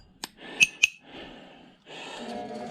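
Brass, stainless steel and aluminum scrap pieces clink together in three sharp, bright metallic strikes close to the microphone, followed by a soft rustle of handling.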